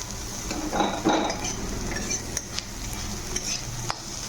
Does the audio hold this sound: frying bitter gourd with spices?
yes